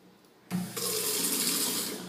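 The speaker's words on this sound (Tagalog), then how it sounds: "ito yung faucet." A condo kitchen faucet opens abruptly and runs strongly, a steady rushing hiss of water splashing into the sink, close and continuous after a brief quiet moment.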